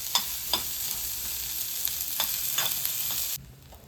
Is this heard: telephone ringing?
no